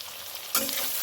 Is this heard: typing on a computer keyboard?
no